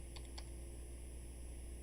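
Two quick, faint clicks of a computer keyboard key being pressed in a quiet room with a low background hum.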